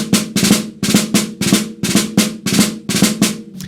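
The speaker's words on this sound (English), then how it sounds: "the early usage of this diane stroke, this double drag tap, is in a quintuple grid that sounds like this" Snare drum playing the French military double drag tap, or diane stroke, on a quintuplet grid: loud, close, crisp groups of grace-note drags followed by sharp taps, repeating in a steady marching rhythm.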